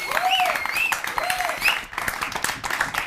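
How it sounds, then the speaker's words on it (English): Studio audience applause on a health television show, broad clapping under melodic tones and voices, with a brief dip near the middle before picking back up. "Ladies and gentlemen, round of applause,"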